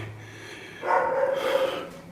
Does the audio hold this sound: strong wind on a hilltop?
no